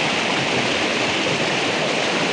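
Village river water rushing forcefully over stones, a loud, continuous, dense roar of flowing water close by with no pauses.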